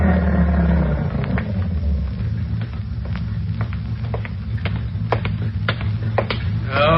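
Truck engine in an old-time radio drama, a low continuous rumble under a sequence of sharp clicks and knocks, with an idling drone holding steady throughout.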